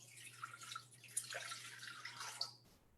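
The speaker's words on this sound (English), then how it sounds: "So I'm going to pour the water." Room-temperature water is poured into a bowl for bread dough, a close, uneven splashing and dribbling pour with a steady low hum beneath, stopping abruptly near the end.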